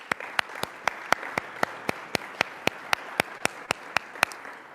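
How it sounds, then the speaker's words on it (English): Audience applause at a talk event, a steady round of sharp, evenly spaced claps heard close and clear, with no speech over it. "so let's give all of them a round of applause."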